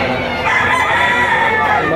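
Chickens and roosters crowing and clucking in a crowded poultry market in Batangas, a dense continuous din of many birds close by, with faint voices mixed in.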